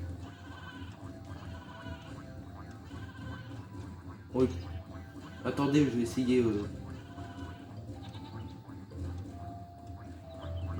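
Sheep in the Skylanders Spyro video game give a couple of short, nasal bleats from the game's audio, heard under French-speaking player chatter and ambient game sounds.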